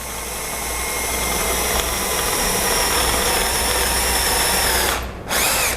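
A power drill bores a hole under steady, gentle pressure, loud and close with a continuous high whine that holds for several seconds before briefly cutting out and restarting.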